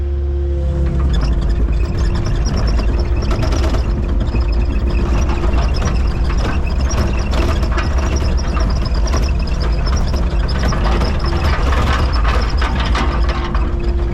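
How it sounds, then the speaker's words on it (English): Motor grader reversing and back-blading with its blade on a work site, a loud continuous diesel drone with steady mechanical clanking and grinding throughout. "I'm gonna reverse the machine and then I'm gonna back blade my way out"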